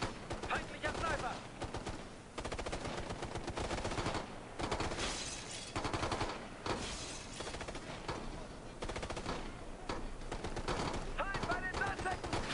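Heavy gunfire in Ghost Recon: Future Soldier, with dense, continuous machine-gun bursts and overlapping shots rattling through the whole stretch while voices talk over the firefight.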